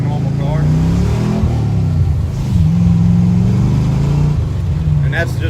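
A 1980 Mustang with a swapped pushrod V8 pulls away in second gear. A loud, close engine rumble rises in pitch as it revs, then dips and climbs again, with people talking over it.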